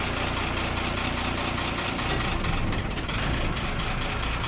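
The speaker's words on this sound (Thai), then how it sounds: "เหยียบคันเร่งช่วยด้วย" A car engine running loud and close, with a rough, steady, vibrating drone that swells slightly as the accelerator is pressed, and no talk heard over it.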